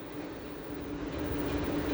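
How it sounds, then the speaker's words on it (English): Northern Class 331 electric multiple unit pulling into Leeds station, a steady, fairly loud rolling rumble and hum that builds slightly as the train draws in, with no voices over it. "The next train to be pulling in will be a Class 331 for Northern,"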